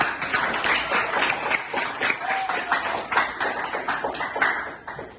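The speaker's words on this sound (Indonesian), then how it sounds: "Kita kasih tepuk tangan untuk kita" Classroom of students clapping for themselves after group answers, brisk irregular hand claps sustained throughout at close range, with a few faint voices mixed in.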